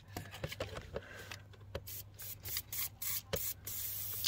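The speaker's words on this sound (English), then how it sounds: "I'm going to put a bit of WD-40 on all these joints" Short aerosol bursts of WD-40 hiss repeatedly onto the joints of a Volkswagen G201 ABS pump during replacement, close and fairly quiet, coming in uneven spurts with brief pauses and faint handling noises between them.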